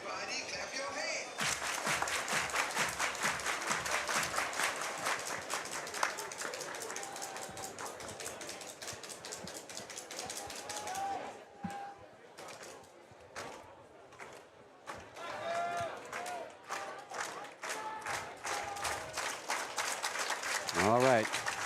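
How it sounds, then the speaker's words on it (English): A baseball stadium crowd claps in rhythmic unison at a Japan versus Netherlands game, steady fast beats that thin out midway and then resume, with scattered cheering and a commentator talking over it. "Everybody clap your hands."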